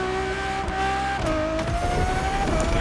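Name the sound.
Ferrari supercar engine in The Crew Motorfest video game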